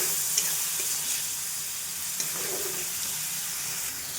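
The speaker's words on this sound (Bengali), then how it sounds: "এবার মশলাটাকে ভালো করে কষবো।" Spice paste loosened with a little water fries in a pan for a goat meat curry, giving a dense, even sizzle close up with faint occasional stirring clinks and no talking.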